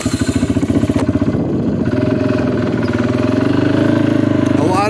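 Dirt bike engine on a motocross track under construction, a steady close, loud throbbing idle-to-low-rev rumble that swells slightly near the end.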